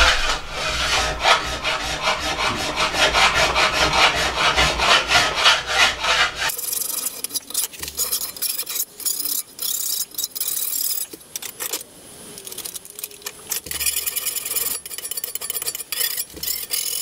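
A file or rasp rubs along the edges of a wooden switch box in fast, steady scraping strokes. The sound is loud and continuous at first, then drops to quieter, intermittent scraping and handling noises.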